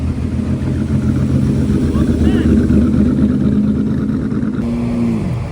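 A Ferrari 250 LM sports car engine roars close by at Monterey Car Week, a loud sustained drone that rises in pitch before tapering off, with crowd chatter beneath it.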